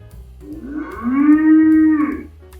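A single long, loud moo from a cow, rising and holding steady before tapering off, close by with no other sounds.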